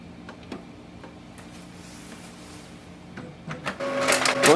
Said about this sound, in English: Once the print head moves,